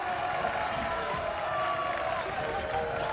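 Basketball crowd in a men's college game against Lander rising to its feet after an 8-0 run ties the score, a steady loud roar of cheering and applause filling the whole clip.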